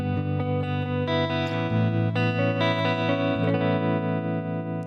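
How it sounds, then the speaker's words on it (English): An electric guitar on its bridge pickup plays through an effects rig, ringing sustained chords and notes with a bright, processed, slightly distorted tone, close and steady with no voices. "This is the bridge pickup."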